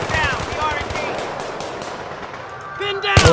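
Battlefield 3 combat with gunfire crackling across the mix, sharp impulsive bursts under soldier shouts and other chatter, growing loudest in a dense volley at the end.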